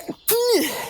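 A single sharp sneeze-like burst, close and loud, with a brief vocal tail trailing off; no talking.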